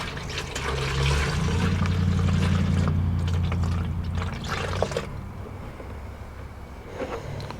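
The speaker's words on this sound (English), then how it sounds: "we're going to pour this back in" Engine coolant poured back into the reservoir of a Toyota, a steady liquid stream that runs for several seconds, then tapers into trickles and splashes, close by.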